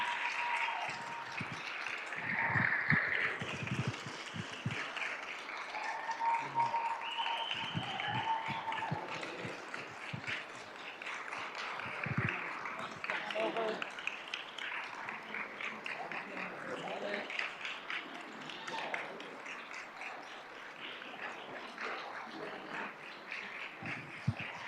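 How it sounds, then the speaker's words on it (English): An audience at a school governing board meeting applauds the champion cross-country team, a long stretch of scattered, moderately distant clapping in a large room, with murmuring and a voice over it at times. "let's give a big round of applause for the EVC champion cross-country team from Sossaman"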